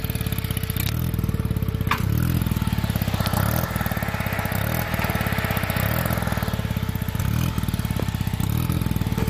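A turbocharged 1.3-litre Volkswagen engine running steadily nearby, a loud, even, rapid mechanical thrum with slight clatter and no talk.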